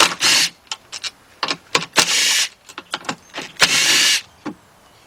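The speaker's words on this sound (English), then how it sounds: "I got my 10mm deep 3/8 drive socket, and I got my cordless impact. I'm going to do is go ahead and take these 3 bolts out." A cordless impact wrench fitted with a 10mm deep 3/8-drive socket, removing three bolts on a 2007 Nissan Murano 3.5: several loud whirring bursts with short pauses between them, close to the listener, with a few lighter clicks.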